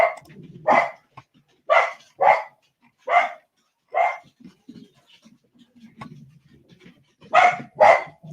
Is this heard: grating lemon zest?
no